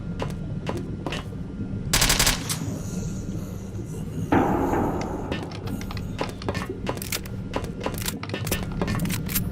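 Gunfire in the video game S.T.A.L.K.E.R. inside Lab X16: repeated sharp shots and bursts spread across the scene, with a heavy blast midway, over a steady ambient game hum.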